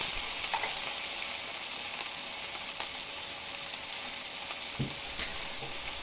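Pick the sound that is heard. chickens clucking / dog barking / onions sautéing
onions sautéing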